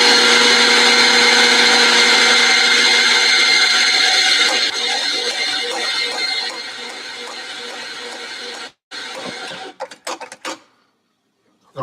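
An espresso coffee grinder grinds beans for about nine seconds as a loud, steady whirring drone. It then cuts out and gives a few short, sputtering bursts before falling silent.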